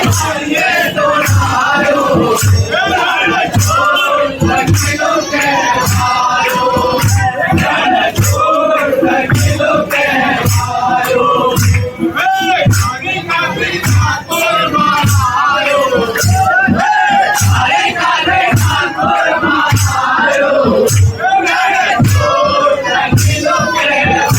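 A dense crowd of devotees waits in line at Dakor temple, filling the air with loud, continuous babble, shouts and whoops, while rhythmic devotional kirtan music with steady beats plays throughout.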